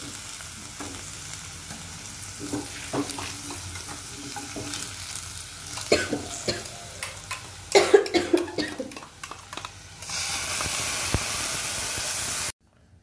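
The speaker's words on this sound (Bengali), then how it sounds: "এই যে হয়ে গেছে ফোড়ন, তো মশলা দিয়ে দাও।" Spices crackle and sizzle as they fry in a pan, with a spoon scraping and stirring through them in bursts that grow louder toward the end, then a steady hiss of frying.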